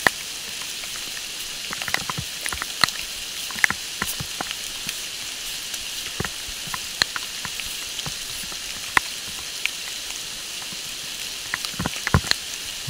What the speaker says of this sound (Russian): Дождь усиливается.